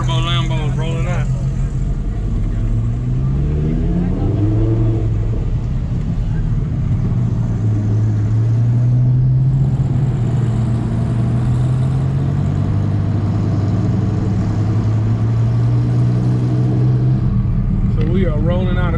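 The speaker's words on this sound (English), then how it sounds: "Twin turbo Lambo is rolling out." A twin-turbo Lamborghini pulls away from a Cars and Coffee meet, its engine rising and falling through several revs in a loud, steady drone, with voices talking over it.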